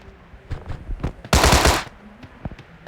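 Tommy gun fired in the video game Sausage Man: a single loud burst of rapid automatic shots lasting about half a second, with quieter clicks and thumps scattered before and after.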